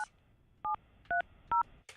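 Telephone keypad tones: three crisp two-pitch beeps at a steady pace with brief clicks before and after, clear and close with no talking.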